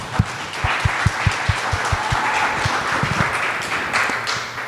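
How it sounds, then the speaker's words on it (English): A conference audience at GUADEC 2024 in Denver applauds its mentors, dense clapping sustained for several seconds with sharp individual hand claps standing out near the front over a steady wash of crowd applause. "So a big round of applause to all of our mentors"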